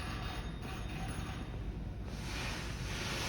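Surf sound effect of ocean waves at Santa Monica, a dense continuous wash of noise that swells slightly toward the end, mixed with wind-like rumble.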